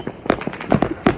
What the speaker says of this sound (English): We got fireworks over here,